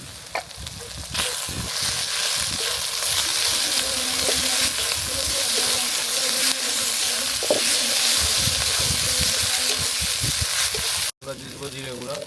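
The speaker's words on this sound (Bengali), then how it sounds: "এবার দিয়ে দেবো মরিচ বাটা।" Spicy village-style masala pork curry sizzling loudly in a pan after chili paste goes in, a steady close frying hiss with stirring clatter throughout.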